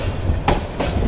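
A crowded passenger train running, with loud steady rumble and two distinct clickety-clack wheel bursts over rail joints, close and continuous without talk.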